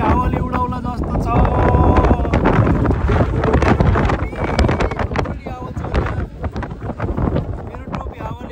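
Strong wind buffets the microphone on the open deck of a cruise ship sailing from Denmark to Norway, a loud, continuous roar with gusty surges and an engine drone beneath it.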